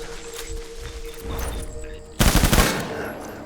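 Gunfire during a Death Stranding battle: a rapid burst of automatic shots lands near the end over low rumbling game noise.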